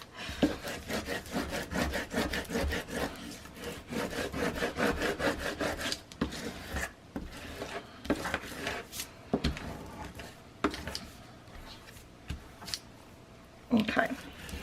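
A notebook cover is burnished by hand, a run of quick, rhythmic rubbing and scraping strokes close up, which loosen into scattered rubs and taps, while someone speaks over part of it.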